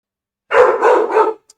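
A dog barks three times in quick succession, loud and close, with no talk over it.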